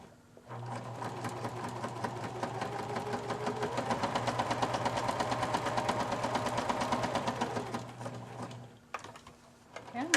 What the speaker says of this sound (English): I will be using a zigzag stitch, somewhat neutral thread